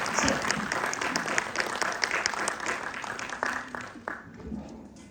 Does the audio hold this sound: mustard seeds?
no